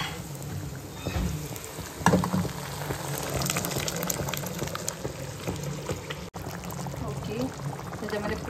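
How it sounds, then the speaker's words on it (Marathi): Cooked pav bhaji is tipped into a pan of hot oil, giving a soft, continuous sizzle and bubbling with a brief thump as it lands, while a voice talks over it. "आता आपण ही पावभाजी आहे ती ह्याच्यामध्ये टाकूया."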